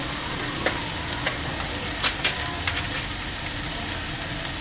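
Shrimp fried rice stir-frying in a hot pan with seasoning sauce, soy sauce and sugar, giving a constant loud sizzle with occasional scraping clinks from the stirring utensil, no talk.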